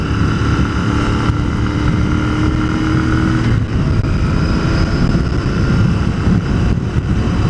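A 2021 Royal Enfield Continental GT650 twin-cylinder motorcycle engine drones loudly and continuously under wind rush, with a brief dip and change in pitch as a gear is shifted while riding.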